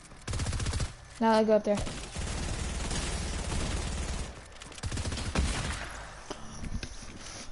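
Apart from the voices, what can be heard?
rapid fire weapon gunfire from a video game, likely Fortnite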